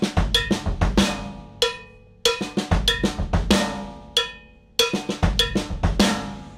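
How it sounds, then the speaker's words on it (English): A drum groove is played on a cowbell alone, with close, loud, bright metallic strikes in a steady repeating rhythm and short pauses between phrases. "If you take that groove and you put it on the cowbell, like it sounds like this."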